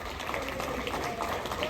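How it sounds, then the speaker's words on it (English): Audience on the Royal Caribbean cruise ship Anthem of the Seas applauding veterans at a tribute ceremony, a short burst of steady, crowded clapping with no talking. "Let's give them a big round of applause as well."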